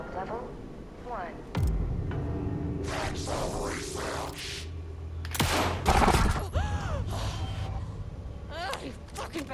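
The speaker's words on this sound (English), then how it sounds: "Oh, here are gunshots." Gunfire bursts out in the video game Alan Wake 2, sharp cracks mixed with game effects and harsh noises, loud and close, while a voice speaks over parts of it.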